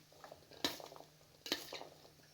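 A spoon mixes chana chaat ingredients in a bowl, giving two distinct clinks against the dish among soft scraping and stirring, quiet and close.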